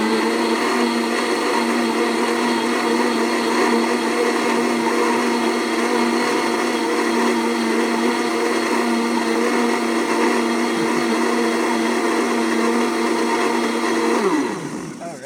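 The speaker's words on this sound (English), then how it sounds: "we put on the lid and we're gonna blend it until it's completely mixed" A countertop blender runs at a loud, steady high whine, blending oats and water into oat milk, then spins down at the end.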